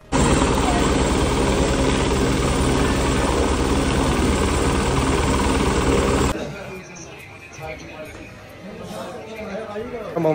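A helicopter flying from Katra to Sanjichhat on the Vaishno Devi pilgrimage route roars loudly and steadily inside the cabin for about six seconds, then the din drops sharply to a quieter rumble, with people talking throughout.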